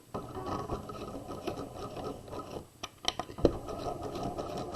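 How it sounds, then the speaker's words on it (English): A sewing machine back stitches across the lining of a tote bag, a close, steady mechanical whirr and patter broken by brief clicks and a sharp knock near the end. "I'm going to back stitch"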